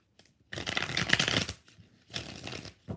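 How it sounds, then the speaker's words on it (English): Tarot cards shuffling in three bursts during a live reading, crisp papery riffles close by with short pauses between them and no talk. "Three shuffles."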